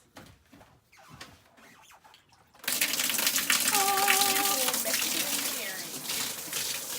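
Water gushes loudly and steadily from a shower head in a tidy campground shower block in Baja California, starting abruptly after a quiet stretch with faint movement.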